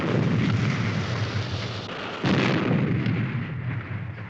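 A weapon fired from the Supercar booms as a heavy, sustained roar, with a second blast surging in partway through, loud and without speech.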